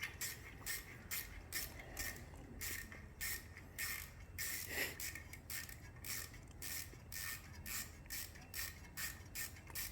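A 5 mm ratchet removes the heat shield from a Triumph Street Scrambler motorcycle, with quiet rhythmic clicking in bursts of rapid pawl ticks that repeat steadily, close up and fairly faint.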